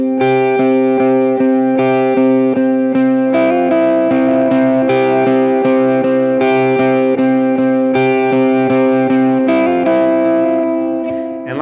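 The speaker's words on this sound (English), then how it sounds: "when you're playing the song and you turn that delay back on," Electric guitar with a delay effect switched on plays the intro of a worship song, steady ringing repeated notes with echoing trails, loud and alone throughout.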